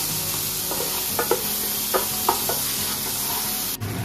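Masala being stirred and fried in a pan, a constant loud sizzle with a few spoon scrapes and knocks against the metal, no one talking.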